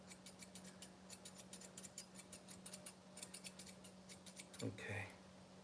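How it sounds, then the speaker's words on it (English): Steel grooming scissors snip rhythmically through a Bichon Frise's coat during a trim, a quick series of close, crisp cuts over a faint steady hum, ending with a soft rustle. "Having good scissor skills, good control of your scissors."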